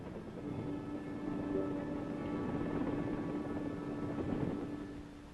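Vietnam-era military helicopters flying in formation, a steady rotor and engine drone with a low thumping hum holding throughout, moderately loud with no talk.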